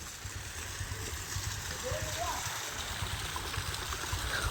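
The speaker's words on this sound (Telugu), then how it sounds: "సో చూస్తున్నారు కదా, వాటర్ అయితే తక్కువగా అయితే ఫ్లో అవుతా ఉంది" A small waterfall stream at Kona with only a light flow, giving a steady soft trickle and gurgle of water throughout, with faint voices and a brief tonal sound in the background.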